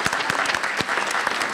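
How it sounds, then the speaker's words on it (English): Steady audience applause at a state poetry recitation final, a dense, even wash of many clapping hands filling the hall throughout. "please applaud those who've come here to be our spectators and our participants in this event"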